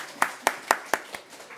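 Five sharp hand claps in a quick, even rhythm during a children's Bible reading at a Korean church service, fading on the last clap, with no other sound.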